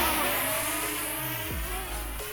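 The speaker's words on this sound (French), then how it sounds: "on va voir comment il vole un petit peu ce drone" A small brushless Loolinn Z6 Pro drone, a sub-250-gram model, flies outdoors, its motors giving a steady whine that rises and falls in pitch as it manoeuvres, with a brief sharp pitch sweep partway through.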